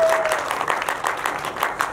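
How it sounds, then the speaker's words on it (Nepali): A live audience at an entertainment event gives an actor a continuous burst of dense, loud applause with no break in the clapping. "यसरी जोडदार ताली पलका लागि"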